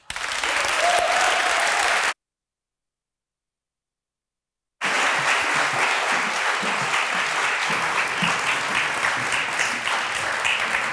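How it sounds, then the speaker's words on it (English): Loud audience applause at a science slam fills the room, cuts out abruptly into silence for a few seconds, then resumes as sustained clapping. "One large applause, round of applause for Mateusz."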